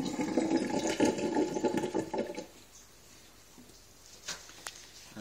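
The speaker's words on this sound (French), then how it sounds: "Bien laisser couler pour tirer le surplus d'eau de l'orchidée." Water runs and trickles out of an orchid pot, a steady splashing pour for about two seconds that dies away into quiet, with a couple of faint drips afterward.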